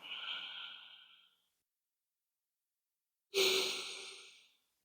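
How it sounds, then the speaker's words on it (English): Two deep yoga breaths, one slow airy exhale fading out, then a long silence before a strong, close breath that rushes in and tapers away. "And as you breathe out, focus on completely exhaling."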